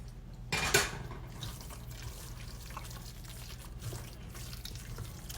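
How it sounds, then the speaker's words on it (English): Chicken broth is poured briefly into a pan of chicken dressing, giving a short liquid splash near the start, followed by quiet kitchen handling. "Let's do a little bit more of our broth"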